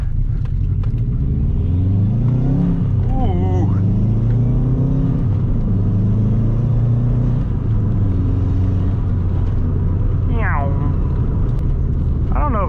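A Subaru Bugeye with 315k miles drives and revs, its engine rumbling loudly and rising in pitch through several accelerations while someone talks over it.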